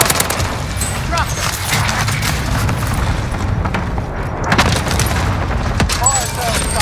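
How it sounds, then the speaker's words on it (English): Cluster strike explosions in a Call of Duty-style quads battle royale match, a dense continuous barrage of booms and blasts layered with gunfire-like cracks, loud and sustained throughout with speech mixed in. "Allied cluster strike arrived."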